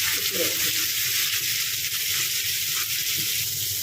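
Finely chopped onion, two large ones, hisses in one and a half tablespoons of well-heated oil for a mushroom masala, a loud, steady, close sizzle throughout.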